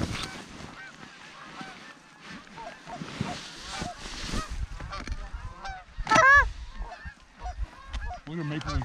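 Geese honk repeatedly during an early-season goose hunt in Washington State, with overlapping calls, some near and loud and others farther off, mixed with rustling and occasional voices.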